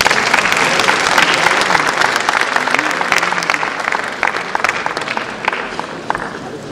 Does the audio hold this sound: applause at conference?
yes